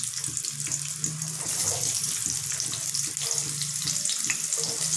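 Onions frying in hot oil for a fish roe fry, a dense, hissing sizzle that holds steady and close throughout, with a low hum underneath and no talking.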